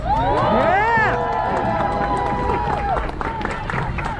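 A crowd at an outdoor protest rally cheers and shouts, with loud whooping voices rising and falling over a continuous background of clapping and hubbub.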